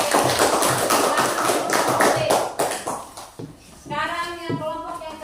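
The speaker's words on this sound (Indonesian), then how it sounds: "Tepuk tangan untuk kelompok B." A classroom claps for group B in a dense burst of applause lasting about three seconds, then fades as voices rise.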